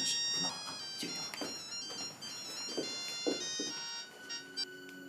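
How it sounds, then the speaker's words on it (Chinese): A mobile phone ringtone plays a bright, repeating electronic melody at moderate volume indoors, ringing continuously with no talk over it. "电话，要正式，不闹了啊，接电话。"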